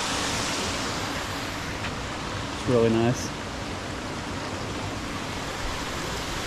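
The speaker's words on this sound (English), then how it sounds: "crossing over the Phelps Brook." Phelps Brook runs beneath a small footbridge on a mountain hiking trail, a steady broadband rush of flowing water filling the scene at moderate loudness, with a brief spoken remark near the middle.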